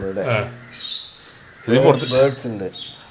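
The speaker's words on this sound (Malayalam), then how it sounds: "അതാണ് കിളിയുടെ ശബ്ദം കേൾക്കുന്നത്" Caged bird squawks and chirps from a balcony aviary ring out in short bursts, close by and fairly loud, with a pause between calls.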